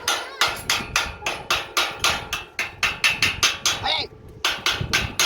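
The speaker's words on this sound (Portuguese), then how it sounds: "E martelo." Steady hammering during a repair job, a fast run of sharp, loud metallic blows about three or four per second, close by, with a brief voice cutting in near the end.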